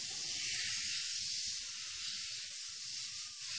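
Steady, loud hiss of air escaping from an Exmark Vantage mower tire as the valve core is removed, a continuous broadband rush lasting the whole few seconds with no talk.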